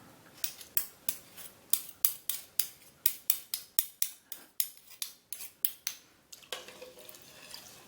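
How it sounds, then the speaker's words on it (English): Chicken congee being stirred with salt and pepper in a pressure cooker pot, heard as a quick, regular series of sharp scraping strokes, about three per second, loud and close with no talk. "Stir it all in there."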